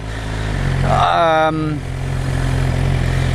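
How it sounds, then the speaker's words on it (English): A Honda CBR motorcycle engine idles with a steady low rumble, and a voice speaks over it partway through. "We've got the bike started and running"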